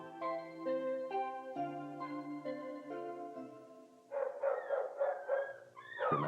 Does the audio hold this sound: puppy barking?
yes